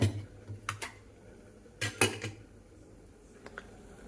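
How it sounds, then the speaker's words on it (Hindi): A lid is set on a pot of cooked dal in a home kitchen, giving a few sharp metallic clinks and knocks spaced apart over a quiet background, with one clustered clatter in the middle. "अब रख दूंगी इसे ढक के।"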